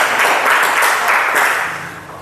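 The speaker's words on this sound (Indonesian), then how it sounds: "Berikan aplaus kepada kelompok 1." Classroom students clap together for group 1, a dense burst of applause at close range that swells in waves and then gradually tapers off.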